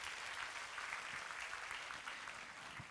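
A church congregation claps together during Sunday worship, with dense, steady applause that carries evenly from start to finish and has no pauses.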